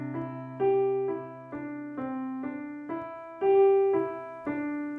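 Soft piano notes rise and fall in a steady broken sus-chord pattern, each note ringing over a sustained low tone, gentle and close.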